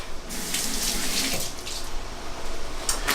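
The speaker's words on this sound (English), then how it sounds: "Rinse my hands real fast." Hands rinsed under a running kitchen tap while preparing a ground venison skillet, with a steady close stream of water splashing into the sink and brief shifts as the hands move.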